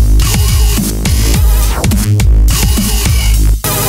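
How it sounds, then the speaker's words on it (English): A melodic dubstep synth patch built in Reason plays loud and alone, with gliding, wobbling pitched chords and pulsing bass notes over four seconds, broken by a brief cutoff near the end. "today we will be looking at a melodic dubstep synth which you might want to use if you don't just want to throw bass around"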